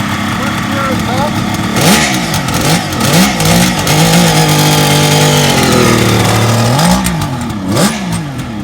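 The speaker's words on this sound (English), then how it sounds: "Starts on the first kick. First gear is up." A 1972 Kawasaki H2 750 two-stroke motorcycle engine runs after a kick start, idling and revving steadily up and down with rising and falling pitch, loud and close, continuous for the whole stretch.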